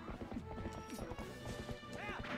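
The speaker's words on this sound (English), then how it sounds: "Rides horses." Rhythmic hoofbeats of a horse galloping in the Zelda: Twilight Princess HD video game, with steady clip-clop beats and a whinny, mixed under game music and people talking.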